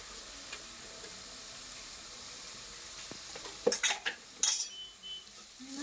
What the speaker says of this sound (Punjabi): ਮਸਾਲੇ ਆਪਣੇ ਭੁੰਨ ਗਏ ਸੁੱਕੇ ਮਸਾਲੇ ਭੁੱਜੇ ਗਏ ਹਲਦੀ ਮਿਰਚ